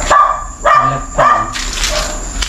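Dog barking at night in a cemetery, three loud close barks spaced about half a second apart, followed by a softer trailing whine.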